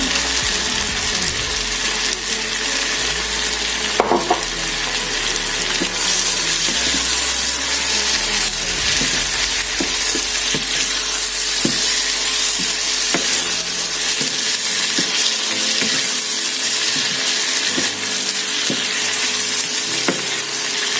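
Spring onion and bell pepper sizzle steadily in a hot pan, a loud continuous frying hiss with occasional scraping stirs and utensil clicks throughout.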